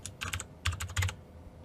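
Keystrokes on a computer keyboard during work in a command-line session, two short bursts of quick clicking close to the mic with a pause between, no talking.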